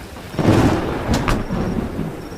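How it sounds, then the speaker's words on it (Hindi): Heavy rain pours steadily through a stormy night scene, with a rumble of thunder swelling early and a sharp crack near the middle, all without speech. "बारिश भी बढ़ चुकी है"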